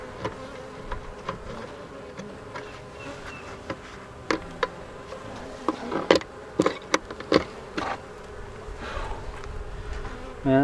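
Honey bees buzzing around a hive entrance during a weekly check while entrance reducers are being changed, a steady close insect drone with sharp clicks and knocks growing busier toward the end.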